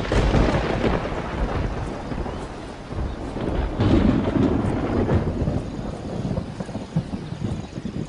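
Thunderstorm at the onset of Kruger's summer rains: steady heavy rain and wind roar with deep rolling thunder swelling around the midpoint, continuous and loud throughout with no voices.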